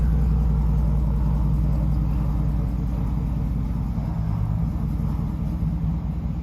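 A tractor tows a Chevy Silverado pickup out of a garage, its engine holding a loud, steady low rumble that drones on without pause for the whole stretch.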